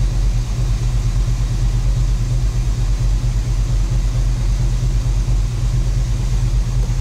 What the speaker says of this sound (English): It's running a little rough, but I mean, it hasn't been started in a couple days, and it's cold, and it's on kind of a high idle.